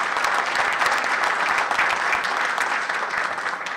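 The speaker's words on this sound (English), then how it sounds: "Round of applause for John." Lively audience applause for an organizing committee chair at a symposium's closing keynote, a close, full burst of many hands clapping, steady throughout and easing slightly near the end, with no speech.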